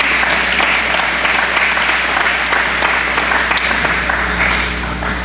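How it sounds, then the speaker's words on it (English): Audience at a gathering breaking into sustained, dense applause, many hands clapping loudly and evenly before tapering slightly at the end. "You can clap for that."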